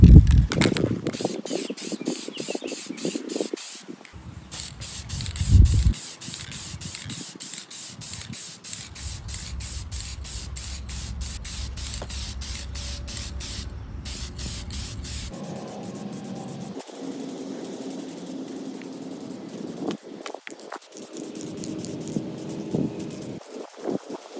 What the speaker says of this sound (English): give it a test spray prior to spraying the propeller